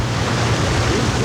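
Heavy rain during a Marin County storm makes a dense, steady broadband rush with a deep low rumble. It sounds close and loud and runs continuously, with no talk.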